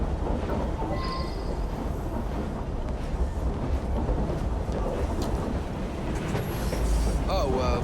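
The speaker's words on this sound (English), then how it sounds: "it's a noisy train" A train in Assassin's Creed Syndicate rumbles steadily with a loud, continuous low roar, wheels clattering and a faint squeal now and then, with murmured voices underneath.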